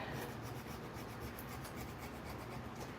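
Hand sanding of a painted surface, a steady soft rasping rub that continues throughout at low level with no talking.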